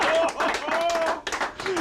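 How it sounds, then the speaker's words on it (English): A small group claps briefly and unevenly, with talking and excited voices over the clapping. "Come on, it's worth a round of applause."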